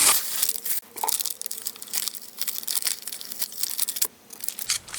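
Plastic backing being peeled off a Halloween shaker card, close and crisp, with repeated crinkling and tearing crackles in irregular bursts and no talk.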